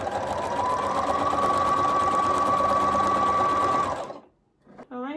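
Sewing machine running steadily and close while stitching a shirred dress, a continuous whirring hum that stops abruptly, followed by a short bit of talking.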